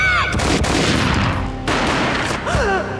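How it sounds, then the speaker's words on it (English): A loud, booming gunshot burst from the Max Payne video game rings out, followed by echoing reports and whooshing effects, mixed with dramatic game sound and music. "A gunshot boomed and she fell down in slow motion."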